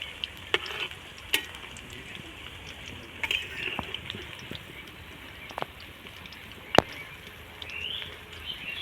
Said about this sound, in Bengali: সময় নিয়ে ধীরে আঁচে করে মুচমুচে করে ভেজে নিতে হবে